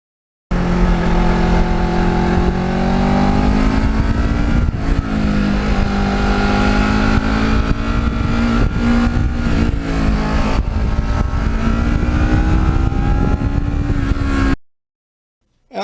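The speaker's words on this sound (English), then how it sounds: "Now it's an uneven firing twin, and so it has a kind of a unique sound, not the sound of a normal twin" A Kawasaki Ninja limited-edition motorcycle with an uneven-firing twin engine revs loud and close, its pitch swelling and falling through repeated throttle blips, then cuts off abruptly.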